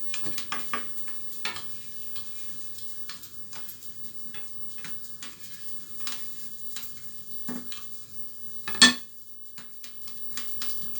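Katmer pastry fries in a pan with a quiet, steady crackle of oil, broken by light ticks and clinks of a utensil against the pan and one sharper metallic knock near the end.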